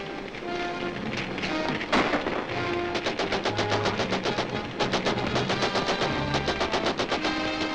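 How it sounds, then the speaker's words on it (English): Dense bursts of rapid gunfire in a classic adventure serial episode, loud and sustained, with sharp reports layered over continuous crackling noise. "Gunfire."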